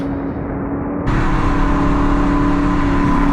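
An Aston Martin Vantage S and a Maserati Ghibli SQ4 with a 3-liter twin-turbo V6 in a drag roll race, heard from inside: a loud, steady engine drone that jumps sharply in volume about a second in and holds.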